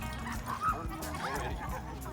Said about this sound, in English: he's doing good with having a lot of dogs around him